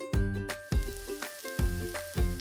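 Garlic sizzles in butter in a frying pan, giving a soft, steady frying crackle punctuated by about five ringing metallic taps of a utensil against the pan at a regular pace.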